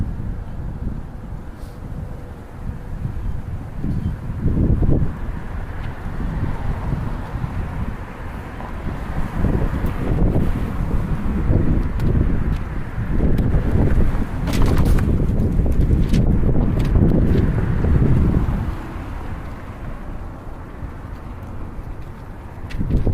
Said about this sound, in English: It's fucking windy as fuck out here.